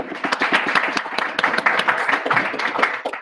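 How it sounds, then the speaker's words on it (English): A developer meetup audience breaks into dense, sustained applause, many hands clapping close and loud at an even level throughout. "Other question, big applause again."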